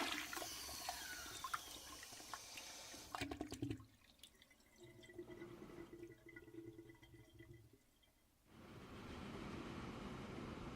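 A toilet flush sound effect fired from a Stream Deck: a loud gurgling rush of water that cuts off abruptly, followed by quieter watery trickling and a steady background hum, with no talk.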